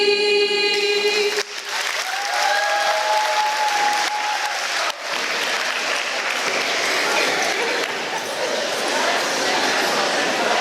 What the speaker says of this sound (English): Let's give Journey a huge round of applause again for talent.